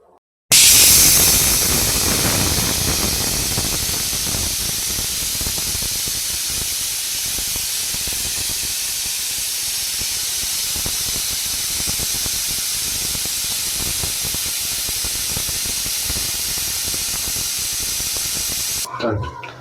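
A pressure cooker cooking chicken biryani vents steam in a loud, sustained hiss that opens with a sharp high whistle burst, then settles into a steady rushing spray that continues close-up until it cuts off.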